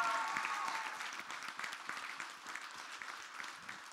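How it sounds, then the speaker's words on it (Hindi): An audience at a film trailer launch applauds steadily, a dense wash of clapping that holds for the full stretch without voices over it. "इनके लिए ताली बजाइए"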